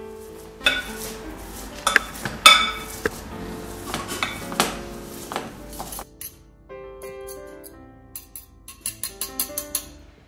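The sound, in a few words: mashing potatoes for aloo paratha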